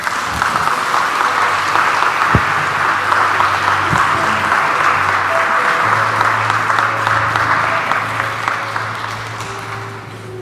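A congregation at a Catholic Igbo Mass claps steadily for a newly married couple, a dense, loud, sustained wash of applause filling the church for about ten seconds.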